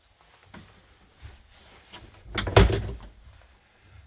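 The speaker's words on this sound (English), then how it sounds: "I'll shut the door." A cabin door inside a Jeanneau Sun Odyssey 36.2 sailing yacht is pulled shut, a few soft knocks and shuffles followed by one firm close-up thud in a quiet interior.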